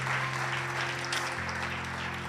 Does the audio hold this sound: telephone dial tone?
no